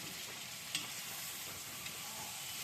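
Onion, green chilli, ginger and cumin paste frying in a pan with a little water, a soft, continuous hiss with faint sizzling, a couple of quiet clicks from stirring.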